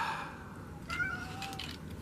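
A house cat gives a soft, drawn-out meow at close range, a thin tonal cry that rises and holds, heard alone against quiet room noise.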